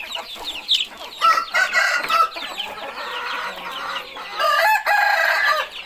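A young rooster crows loudly and nearby several times in succession, with clucking between the calls and no talk.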